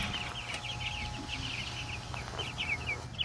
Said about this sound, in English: Some of you may want an update on the baby chicks.